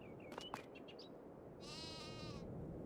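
A sheep in the Farming Simulator 22 video game gives a single drawn-out bleat, faint and quiet, after a few brief chirps over a low background bed.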